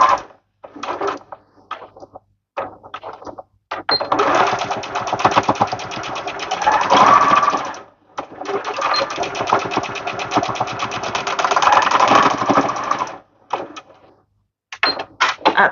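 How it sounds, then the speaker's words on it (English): An electric sewing machine stitches fabric for a bow in rapid mechanical bursts, running back and forth in several stretches of a few seconds each with short pauses between them, close and moderately loud. "And now that's done with the sewing machine."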